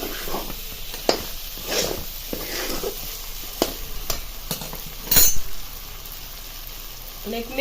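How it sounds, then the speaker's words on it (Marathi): Tempering spices (a phodni, with dal) crackle and sizzle in hot oil, with sharp spatters and a few scraping stirs against the pan. "ही फोडणी आहे ती चांगली परतून घ्यायची"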